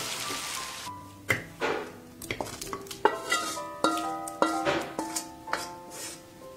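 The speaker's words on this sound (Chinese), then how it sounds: "翻炒均匀后放入砂锅，" Stir-fried spare ribs coated in chili bean paste are scooped and scraped from a wok into a clay pot, giving a series of close metallic scrapes and clinks at an uneven, busy rhythm.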